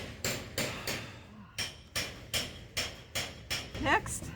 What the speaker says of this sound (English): He's always hammering.